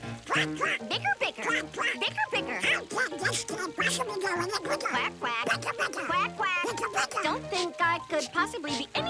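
Cartoon duck quacking in a Mickey Mouse short, repeated nasal quacks mixed into busy music and animated character voices throughout.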